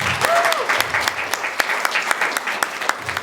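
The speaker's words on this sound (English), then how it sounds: "Give her a clap." Audience applause for Sonia Cole at a professional women's network launch in Taranaki, a short burst of dense clapping with sharp individual claps and a brief whistle or cheer near the start.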